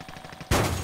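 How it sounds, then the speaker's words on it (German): A single loud burst of gunfire in Call of Duty: Modern Warfare cuts in abruptly after a quiet moment, sharp and close, with a brief rumbling tail. "Schüsse."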